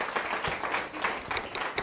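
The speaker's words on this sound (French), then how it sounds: "On peut les applaudir." Audience applause at the close of a live-streamed presentation, a steady clatter of many hands clapping at moderate loudness with individual claps standing out, sustained through the whole moment without speech.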